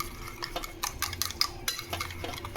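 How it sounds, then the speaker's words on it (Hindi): Cucumber raita with cumin and asafoetida being stirred with a spoon in a bowl, quiet repeated scraping and light clinks in an irregular rhythm, close and soft with no talking. "चलिए रायता मिक्स करते हैं।"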